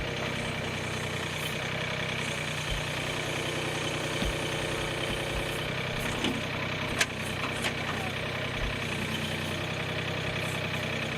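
Backhoe engine running steadily while it digs up a garden bed, a continuous close diesel rumble with occasional clanks and knocks from the bucket, and a voice speaking faintly underneath.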